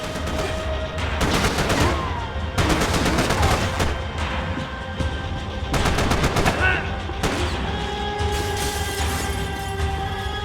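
Rapid bursts of automatic gunfire in the video game Max Payne 3, loud repeated volleys and single shots over a constant rumbling background, with brief pauses between salvos.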